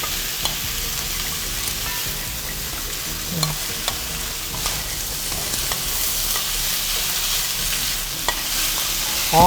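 Bean sprouts stir-fry in a pan with udon noodles for shrimp fried noodles, a continuous close sizzle with occasional clicks and scrapes of utensils, no voices.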